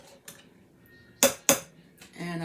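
A metal tablespoon clinks against a dish while scooping baked beans: two sharp, close metallic strikes in quick succession, with a few fainter taps and scrapes around them.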